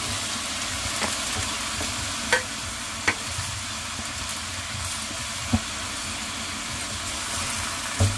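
Cabbage stir-fried with onion leeks and Chinese pepper for tanmen ramen, a steady broadband sizzle broken by a few sharp spatula knocks against the pan, close and continuous with no voices.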